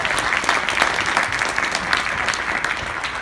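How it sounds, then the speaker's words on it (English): Audience applause at a seminar-style talk in Dallas: a steady, dense round of clapping from a sizeable crowd, loud and continuous for about three seconds with no one speaking. "Let's give that a round of applause."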